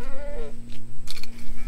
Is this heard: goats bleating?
yes